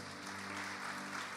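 A church congregation claps during a sermon, a dense, moderately distant wash of applause with a low steady hum under it.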